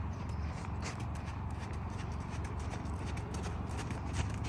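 A horse cantering in a training session, its hooves clip-clopping in a steady, continuous rhythm close by, with a constant rumble of movement underneath.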